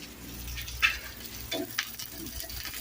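A dosa frying in ghee on a pan gives off a low, steady sizzle with a few soft scraping stirs, faint and close, with no talk over it.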